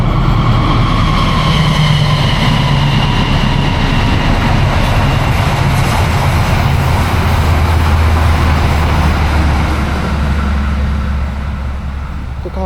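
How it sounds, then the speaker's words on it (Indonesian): A train passes by close and loud, a dense continuous rumble and roar that holds steady for about twelve seconds before easing slightly at the end. "Bentar, ada kereta."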